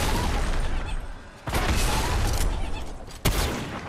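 Gunfire in the video game Fortnite: dense bursts of rapid shots fill the whole stretch, with sharper, louder cracks standing out near the middle and toward the end.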